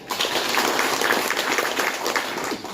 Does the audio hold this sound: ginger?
no